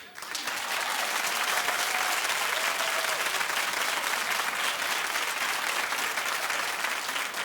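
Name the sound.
studio audience clapping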